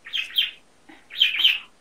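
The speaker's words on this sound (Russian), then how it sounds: "Что у вас там, птичка, что ли?" A small bird chirps nearby in two bursts of sharp, high twittering calls separated by a short gap, loud and clear with no speech over it.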